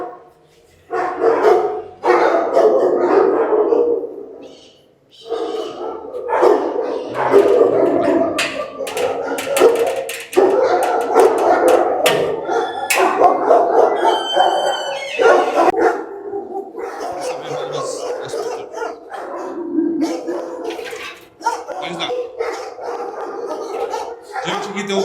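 Police dogs barking in bursts at a training kennel for explosive-detection dogs, heard intermittently beneath ongoing conversation between people throughout.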